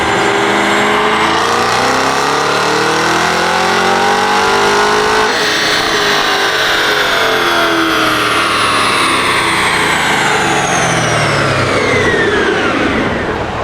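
A Cadillac CT5-V Blackwing engine revs hard on a dyno, climbing steadily in pitch through a sustained loud pull, then winds down again. No one speaks over it.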